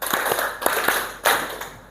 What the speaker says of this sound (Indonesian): Oke, tepuk 4. Yes, oke. Kalau tepuk 5.